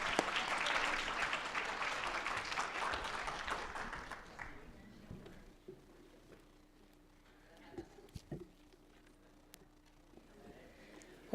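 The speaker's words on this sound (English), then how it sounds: "Let's give a round of applause." Conference audience applause, a dense burst of clapping for the first four seconds that tapers off into a quiet room with scattered knocks and faint shuffling.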